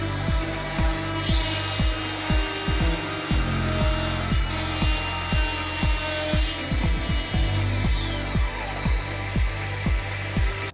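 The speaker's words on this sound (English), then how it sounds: "it's time to use my 400 grit so that I can get a nice smooth" A raw wood dresser is hand sanded with 400 grit sandpaper in quick, regular back-and-forth strokes, each one a close, dry, raspy scrape, continuing steadily with no talk.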